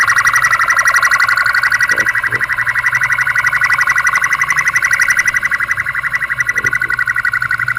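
An ambulance siren wails loudly and continuously on a São Paulo street, a rapid oscillating electronic tone held close for the whole stretch, over low traffic rumble.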